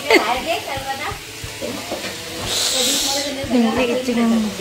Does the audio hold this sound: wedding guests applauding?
no